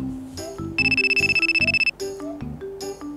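Phone ringtone heard during an outgoing call, a bright electronic melody with a rapid repeated beeping figure in the middle, loud and close with no talking.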